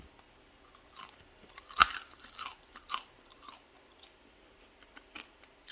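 Someone bites into a skin-on French fry cooked in an air fryer, giving one sharp, close crunch followed by several softer crunching chews spread over a few seconds in a quiet room.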